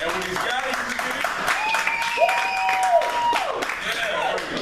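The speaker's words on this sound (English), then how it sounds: "you give us a golf clap, a little demonstration" A studio audience gives soft, restrained golf-clap applause, a steady patter of light claps with voices and talk mixed over it throughout.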